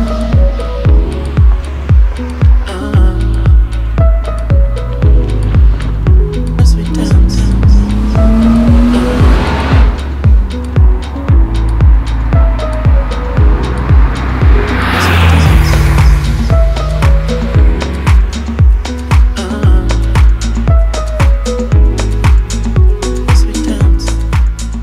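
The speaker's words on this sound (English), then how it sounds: "Engine like that in a car handling like this, that's guaranteed fun." A BMW E36 323Ti M-Sport hatchback driven hard, its engine revving up and down through repeated gear changes with tires squealing through corners, loud and close throughout.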